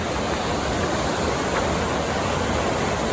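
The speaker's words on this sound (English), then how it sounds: "You can hear the water just raging below us here." Constant broadband roar of a high, raging late-August river in the Wallowa Mountains, heard from a trail above, loud and unbroken like a torrent below, with no other sounds.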